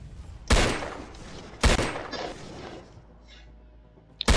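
Gunfire from a weapon in the video game Impulse: two sharp, loud shots about a second apart, each with a lingering tail, then a quieter mechanical clatter and a final crack at the end.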